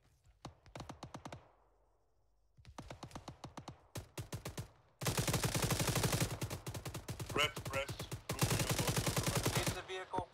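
Heavy machine gun fire in Arma 3, sharp evenly spaced rounds in quick bursts that start sparse and separated by pauses, then turn into longer, louder sustained strings of fire, some of them distant.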